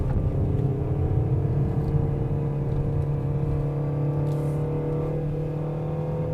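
A Peugeot 3008 SUV climbs the Genting hill road in second gear, its engine a steady humming drone inside the cabin that holds a constant pitch with only a slight shift near the end.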